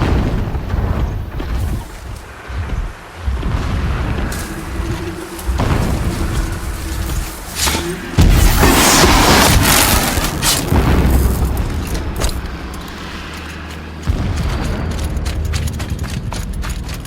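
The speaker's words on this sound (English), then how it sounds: "Explosions in the distance." Explosions in the video game Horizon Zero Dawn, during an infiltration of the Eclipse base, rumble as loud, continuous booms that pile up with crackling debris and mechanical clatter and swell midway through.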